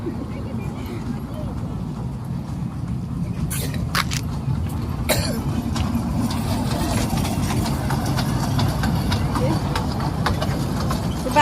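A dragon train ride at a village Baishakhi fair in Bangladesh runs with a steady, low engine rumble, joined by a few sharp knocks and a cough.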